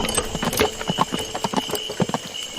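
Horse hooves clip-clop in a steady, brisk rhythm of sharp knocks, close and clear, along a forest path beside slow-moving carts.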